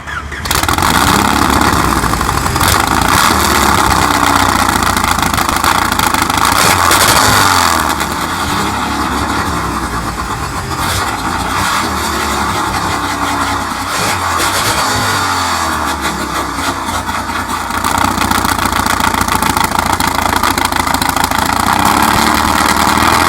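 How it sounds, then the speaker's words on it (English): A racing boat 4-cylinder engine idles loudly and steadily, a rough, throbbing rumble with a slight rise and fall in revs, close up throughout. "This is actually a racing boat 4-cylinder motor."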